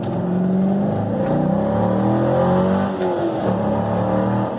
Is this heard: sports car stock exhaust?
yes